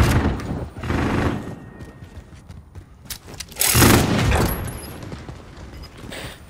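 Shotgun and minigun fire in a survival-mode video game, heard as dense, loud bursts of rapid shots near the start and again around the middle, with quieter mechanical game noise between them.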